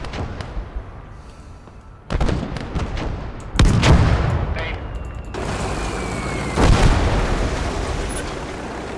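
Heavy 120mm guns fire in a battle game, landing as several loud booming blasts with rolling echoes spread across the stretch, one shot following another, over a busy background of distant battle noise.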